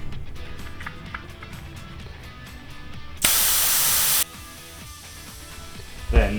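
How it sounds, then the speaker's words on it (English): Air rushes out of a bicycle tire's Presta valve in a single sharp hiss lasting about a second against a quiet background, followed by a small clunk near the end. "First, you want to let out all the air."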